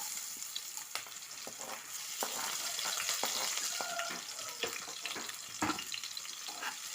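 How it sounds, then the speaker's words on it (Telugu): Cumin, finely chopped onions, green chillies and curry leaves hit hot oil in a pan, making a bright, continuous sizzle and crackle with scattered sharp pops and a few stirring clicks, fairly close and with no talking. "నూనె వేడయ్యాక కొంచెం జీలకర్ర, అలాగే సన్నగా తరిగిన ఉల్లిపాయలు, పచ్చిమిర్చి, కరివేపాకు అన్నీ ఇందులో వేసేసుకుందాం."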